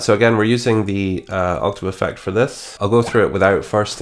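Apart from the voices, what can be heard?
No everyday noises stand out.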